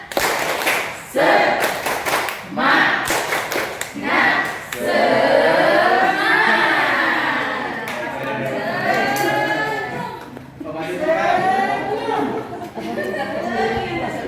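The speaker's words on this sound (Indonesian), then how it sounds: "Siap-siap. Tepuk semangat." A group of teachers at a school training session performs a tepuk semangat rhythm, a burst of sharp patterned hand claps in quick sets, followed by loud group voices chanting and talking over a room murmur.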